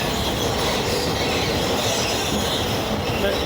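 A metro train passing in Istanbul's Gayrettepe–Zincirlikuyu area makes a loud, close, steady rumbling roar with rail noise that fills the whole stretch, and no voices are heard.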